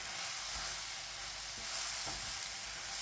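Sausages, sautéed vegetables and ketchup are stirred together in a hot pan, a steady loud sizzle with a few soft scrapes of the spoon, close and with no voices.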